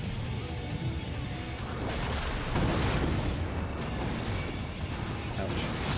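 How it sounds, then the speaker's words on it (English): Boulder bomb explosion in Final Fantasy XIV, a broad rumbling blast with crashing debris that swells midway and holds as a loud, continuous wash of noise. "Oh, boulder bombs."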